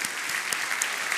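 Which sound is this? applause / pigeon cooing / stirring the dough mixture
applause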